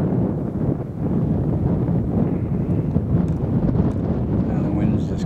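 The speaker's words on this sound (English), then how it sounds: "Now the wind's just come up." Steady wind gusts buffet the microphone on a mountain walk near Cradle Mountain, a continuous loud rushing roar that lasts throughout, with faint voices occasionally audible beneath.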